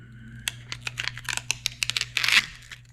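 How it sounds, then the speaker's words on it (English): Prismjet high tack vinyl peeled up from its backing in quick crackling, tearing bursts that grow denser toward the end, close and fairly faint, over a low steady hum. "I'll just peel it up"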